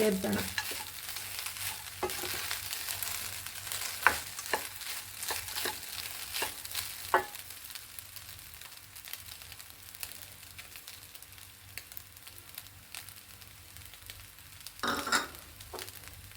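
Lemon rice is stirred in a pan, with repeated scraping and clinking strokes of the spoon and a soft sizzle underneath, close and fairly quiet, in bursts that slow toward the end.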